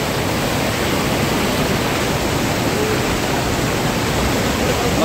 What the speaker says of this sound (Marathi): बघा देवकुंड वॉटरफॉल.